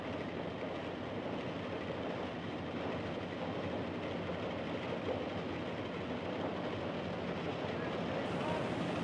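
Rigi Railway mountain train running on rails up Mount Rigi in Switzerland, a steady loud rolling rumble and rattle throughout with no distinct clicks.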